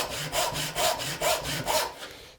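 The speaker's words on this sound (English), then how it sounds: "sawing down to whatever my baseline is" A hand saw cuts down through wood along an established kerf, with steady, evenly spaced push-pull strokes, about five rasping passes, close and clear with no talking.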